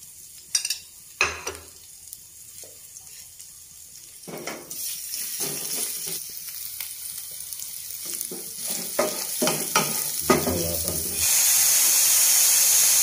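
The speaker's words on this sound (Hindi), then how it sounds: "1 टेबलस्पून अदरक लहसुन का पेस्ट है, इसको हम सौते कर लेंगे।" One tablespoon of ginger garlic paste sautéing in two tablespoons of hot oil in a pan for black pepper chicken: steady frying sizzle with occasional stirring clatter, building to a louder, even hiss near the end.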